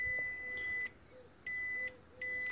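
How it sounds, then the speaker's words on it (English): A multimeter's continuity buzzer, used while testing fuses on a Vauxhall VXR8 with electrical faults, gives three clear, sustained high-pitched beeps separated by short gaps over a quiet background. "let me put the buzzer and then we'll check those"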